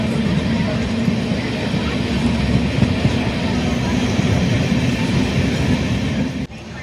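A passenger train runs near Thiruverumbur in steady rain, its deep wheel-and-carriage rumble loud and continuous throughout, with a faint clatter on top before the sound briefly dips near the end.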